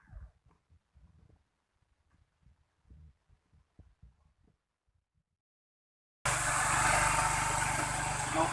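A repaired motorcycle engine starts and runs, a loud steady rumble kicking in abruptly after a stretch of quiet knocking and tinkering.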